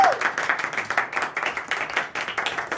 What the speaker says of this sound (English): round of applause for all of our graduates